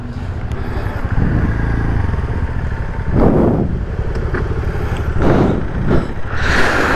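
Suzuki Burgman Street scooter pulling in and being parked at a crowded roadside meet-up, its engine a steady close rumble with brief revving bursts and surrounding crowd noise, no clear talk.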